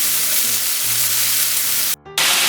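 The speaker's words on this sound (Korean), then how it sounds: "고기를 중불에서 살짝 익을 정도로 볶음을 해주세요" Loud, steady sizzling of beef stir-frying over medium heat in a hot pan, with a brief cut-out before the sizzle resumes.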